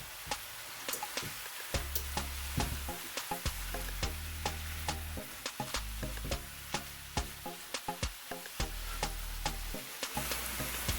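Peppers and scallions sizzling in a frying pan, a quiet steady hiss broken by sharp ticks and pops and occasional stirring scrapes, with no talking.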